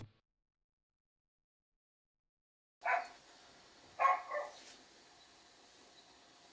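A dog barks close by after a stretch of silence, giving one sharp bark followed a second later by a pair of quicker barks, with no talking.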